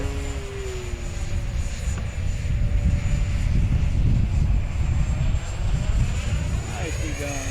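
A FlyFans J-20B model jet flies a loop, its engine a continuous loud whine and roar that rises and shifts in pitch as power is added, steady throughout the manoeuvre.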